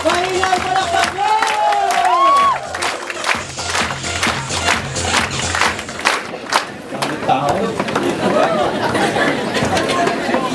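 Large seminar crowd applauding and cheering at an AIM Global success testimony for Mr. Boyet, loud and sustained, with chatter and shouted voices over dense clapping throughout.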